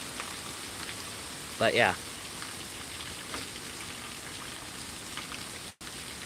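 Steady heavy rain pours during a severe thunderstorm in Pittsburg, Kansas, a constant wash of drops on surfaces with a brief voice cutting in partway through.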